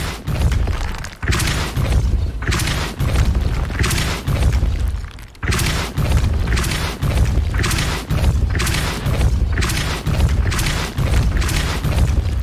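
Repeated Depulso force-push spell blasts in Hogwarts Legacy, a series of loud, booming impacts roughly every second with brief crashing bursts, continuous and dense, with no talk.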